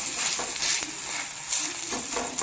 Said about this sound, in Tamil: நல்லா திருப்பி திருப்பி விட்டு நீங்கள் வேக வச்சுக்கலாம்